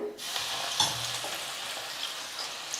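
Crushed garlic cloves with their skins on fry in hot oil for a potato mixture snack, giving a bright continuous sizzle with a brief stir partway through, close up and without talk.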